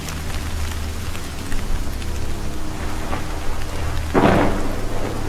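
A storm in Shadow of Mordor brings a lightning strike and thunder: steady rain and low rumbling give way near the end to a sharp, loud crack over the downpour.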